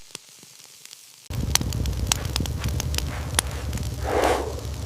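Raw meat sizzles after dropping into the heart of an open fire, a steady crackling hiss that starts abruptly after a quiet moment and swells louder near the end, with sharp pops scattered throughout.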